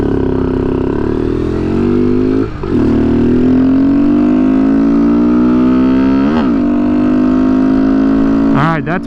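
A Kawasaki Z125 motorcycle held at full throttle, its engine note climbing steadily in pitch, then dropping briefly at each of several quick gear changes before winding up again, close and loud.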